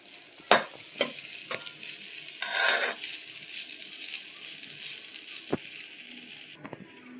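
Grated coconut is stirred and roasted in ghee in a pan: a soft sizzle runs beneath sharp scraping knocks of a spoon against the pan and one brief rustling scrape, up close and with no voices.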